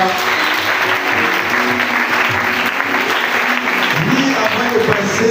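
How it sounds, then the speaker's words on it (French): Loud, sustained applause from a church congregation acclaiming the king of kings, a dense crowd of clapping that holds steady throughout. "Acclamons le roi des rois."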